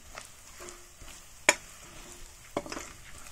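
Turmeric and Kashmiri red chili powder are stirred into a pan on medium gas for lotus stem sabzi, with a faint soft sizzle and two crisp spoon-on-pan clinks.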